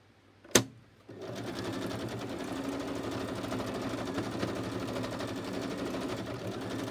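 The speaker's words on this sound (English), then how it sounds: "Now I'm going to continue and stitch all the way around." A sharp click sounds, then after a short pause a sewing machine starts and stitches steadily all the way around, a close, even rapid whir that continues to the end.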